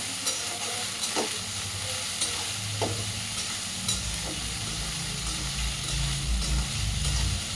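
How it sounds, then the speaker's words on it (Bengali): Rice for fried rice sizzling in a hot pan, with a continuous loud frying hiss, a low rumbling undertone and periodic scraping stirs recurring about once a second. "এই যে ফ্রাইড রাইসের এটাকে আগে ফ্রাই করে নিব ভালো করে"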